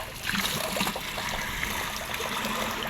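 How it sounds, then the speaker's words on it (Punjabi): Running water rinses soil out of a trough on a farm, a steady close trickle and splash continuing without a break and no voices over it. "ਹੁਣ ਆਪਾਂ ਇਹਨੂੰ ਧੋ ਦਿੰਨੇ ਆ ਇੱਕ ਵਾਰ ਚੰਗੀ ਤਰ੍ਹਾਂ ਸਾਰੀ ਮਿੱਟੀ ਨਿਕਲ ਜੇ"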